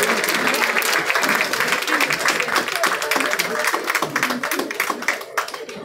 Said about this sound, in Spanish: Un fuerte aplauso, por favor, para María Eugenia Cruz Copa Alvarado para la entrega de este premio